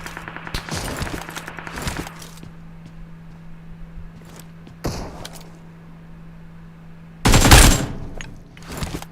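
PUBG Mobile gunfire sounds as sharp, loud bursts of rapid shots in a few separate volleys, with a low steady hum and quieter clicks between them.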